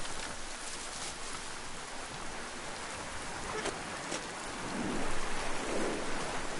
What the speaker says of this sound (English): Was that lightning?